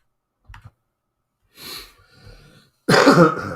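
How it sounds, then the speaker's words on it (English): A single loud cough right into the microphone, preceded by a couple of faint clicks and a soft breathy throat sound. "I didn't mean to cough on the mic."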